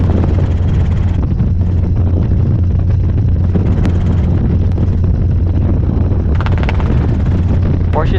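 A Robinson R22 helicopter in flight drones loudly and steadily from inside the cabin, its rotor and engine noise constant throughout, while a voice speaks intermittently over the din.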